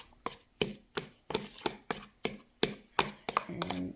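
A banana mixture is beaten by hand into a foam for a DNA-extraction experiment, with about ten quick, even scraping strokes against the bowl, close and moderately loud.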